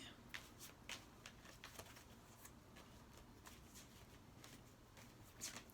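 Tarot cards shuffled by hand, a quiet run of soft riffling flicks and slaps in uneven rhythm, close and faint.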